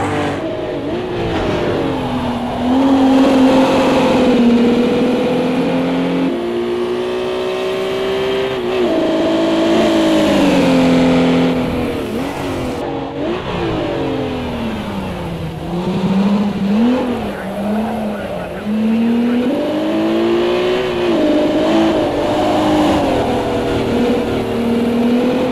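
A Jaguar E-Type in the racing game Project CARS 2 revs and pulls through the gears, its engine note rising and dropping repeatedly in a loud, continuous drone with occasional tire noise.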